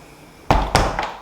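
A UPVC door being locked gives a sharp thunk, then a second firm clunk a quarter second later and a softer click after, close by with no talk.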